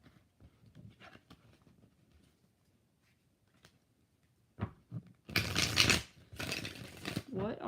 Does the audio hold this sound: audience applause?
no